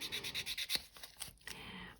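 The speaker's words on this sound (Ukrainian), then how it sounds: "Допомагаю собі біля кутикули бафиком, полірую, ще там шліфую, підшліфовую трошечки бафиком." A nail buffer polishes and lightly sands a fingernail near the cuticle during gel polish removal, giving quick rhythmic close-up rubbing strokes, about seven even passes followed by a few slower scrapes, soft and alone.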